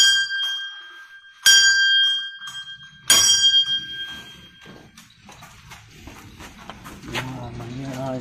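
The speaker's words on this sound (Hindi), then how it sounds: "या आए तो घंटी भी मारना बनता है।" Metal bell at a Shiva temple struck twice, each ring bright and clear, decaying over about a second and a half, followed by a person speaking close by.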